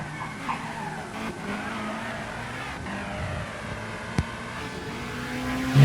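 A race car pulls out of the pits during a Gran Turismo endurance race at Suzuka, its engine droning steadily with a brief sharp transient near the end and the engine note swelling loudly at the close.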